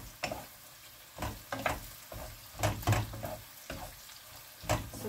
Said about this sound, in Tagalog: kailangan i-caramelize yung ating sibuyas bago ilagay sa ibabaw ng burger